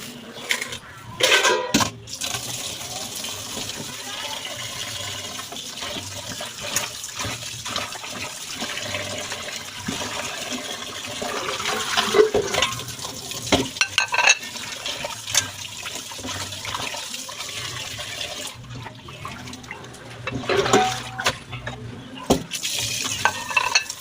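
Tap water runs while pork is washed in a home kitchen before boiling for a pork stew, a steady splashing stream with clattering and rinsing bursts throughout.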